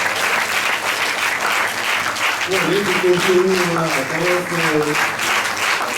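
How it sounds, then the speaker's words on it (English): A conference audience at a national gathering in Nigeria claps continuously and fairly loudly, with a voice speaking over the applause in the second half. "It's a day of clapping because your own day will come."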